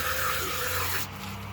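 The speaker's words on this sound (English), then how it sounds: "now I spray my bird out." Water sprayed from a hose into an eviscerated pastured chicken carcass during home poultry processing, a close, loud rushing hiss that cuts off abruptly partway through, leaving a lower background hum.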